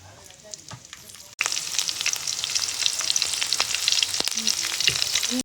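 Whole cumin seeds and chilies hit hot oil in a village kitchen pan, a loud continuous crackling sizzle bursting in after a quiet opening second, with scattered pops throughout.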